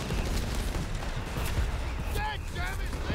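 Mortar and gunfire from a Company of Heroes 3 tournament match rumble as dull thuds and crackling shots under a steady battlefield din, with commentators talking over the action.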